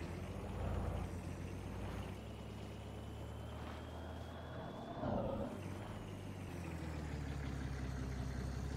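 A steady, low car engine drones and idles in a farming simulator game, with a slight swell in revving around the middle and end; no talking.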